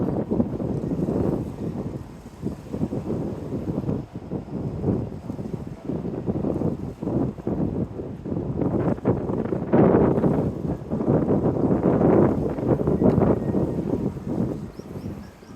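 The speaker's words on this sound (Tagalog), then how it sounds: "Medyo mahangin." Strong wind buffets the microphone in a constant low roar with gusts that swell and ease, outdoors in Okinawa, Japan, and loud throughout.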